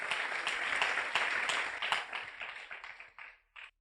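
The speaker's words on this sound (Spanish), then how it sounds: "Denle un aplauso al Señor Jesucristo." Church congregation clapping after a prayer, dense applause that holds steady and then thins out into scattered claps and a final few isolated slaps before stopping.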